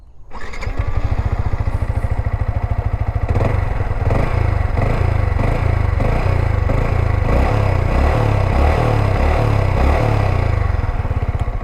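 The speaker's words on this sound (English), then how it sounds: "let's turn on the motorcycle and hear how it sounds" Yamaha MT-15 V2 motorcycle engine firing up and then running at a steady idle, a close, even putter with a rapid regular pulse and light mechanical clatter throughout.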